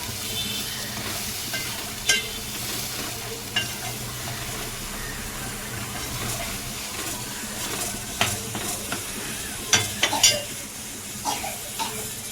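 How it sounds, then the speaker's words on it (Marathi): Ground masala paste for mutton curry frying in hot oil, a steady close sizzle and hiss with intermittent scrapes and clinks of a spoon stirring against the pan, no voices. "मसाला छान आता तेलामध्ये फ्राय करायचं आहे"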